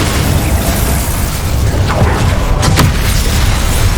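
Incendio fire spell blasting in Hogwarts Legacy, a loud, dense roaring burst of flame with rumbling low end and a couple of crackling flares near the end, filling the whole moment.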